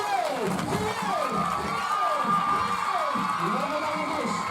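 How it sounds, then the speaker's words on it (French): A large crowd cheering and shouting in sustained waves of overlapping high voices and whoops, loud and continuous for several seconds with no break. "je veux entendre encore des tonnes d'acclamation"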